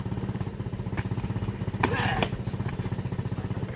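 A tractor engine chugs nearby in a fast, regular pulsing rhythm at moderate volume, with a brief burst of other noise midway and people talking over it.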